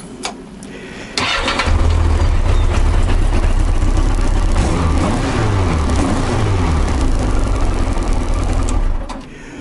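A Yamaha XJ900S motorcycle engine cranks and fires up close by, then settles into a loud, steady running note that holds for several seconds before cutting off.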